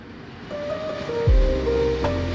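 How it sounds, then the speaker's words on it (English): Ocean waves wash onto the coast at a spot reached by bicycle, a broad steady surf rumble with wind buffeting the microphone and a few low thumps, no one speaking. "here's some ocean ASMR"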